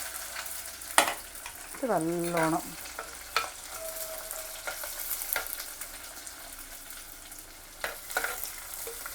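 Crushed ginger, garlic and green chilli sizzle and crackle steadily in a hot pan for a prawn chilli curry, with scraping stirs, a brief pot clatter and a few spoken words over it.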